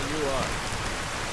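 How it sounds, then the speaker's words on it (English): Steady rain hisses down in Skyrim Special Edition during a battle, a dense, even patter that fills the scene, with a faint voice-like tone briefly heard over it. "And it's raining."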